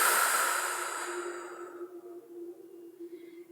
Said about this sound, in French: On va commencer par expirer par la bouche pour relâcher toutes les tensions.